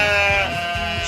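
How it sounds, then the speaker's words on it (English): A single sheep gives one loud, close, quavering bleat, a sustained wavering call filling the whole short moment. "This is a sheep."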